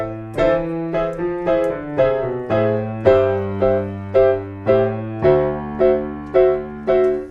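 Piano playing the tricky bass line of a song. Low notes are struck one at a time in a steady walking rhythm, each ringing and decaying, clear and close with no voices.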